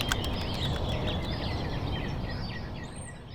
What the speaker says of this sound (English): Now, let's listen to the birds again.